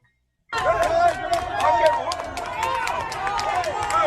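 A crowd on a Brooklyn ferry cheers and hollers as NYPD officers arrest a man, overlapping voices rising and wavering continuously, with sharp claps or shouts punctuating the babble.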